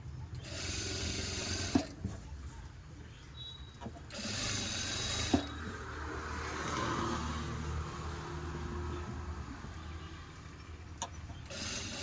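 A sewing machine stitches piping onto the back of a fabric edge, running as a steady, fairly quiet mechanical whir through the whole stretch with a few brief clicks and bumps.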